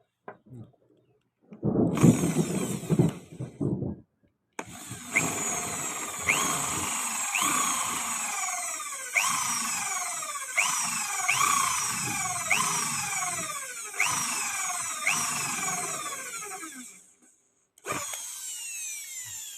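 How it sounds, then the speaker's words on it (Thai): A power drill bores a hole through a stopper that will become part of a venturi aerator for treating wastewater in a pond. It whines up in repeated bursts with short pauses between them, close and fairly loud, and no talk is heard. "เราจะเริ่มจากการเจาะรูของจุกนะครับ"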